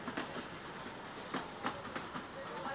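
A toy train pulling into a small, humble station platform, with rhythmic rail clatter and a few sharp metallic clacks over a steady rumble, faint crowd noise behind.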